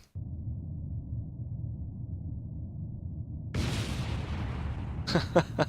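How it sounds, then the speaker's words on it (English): A rocket explosion in Kerbal Space Program, heard as a sudden broadband burst midway through after a steady low rumble, followed by a couple of sharp crackling pops near the end, loud and close. "We didn't even get far enough away to not hear the explosion."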